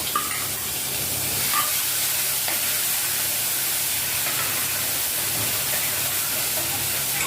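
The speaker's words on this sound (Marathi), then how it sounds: "कढीपत्ता टाकल्याच्यानंतर हिरवी मिरची आणि लसणाची पेस्ट" Green chili and garlic paste sizzling in hot oil tempering with curry leaves, a steady bright hiss with occasional small crackles, continuous and close.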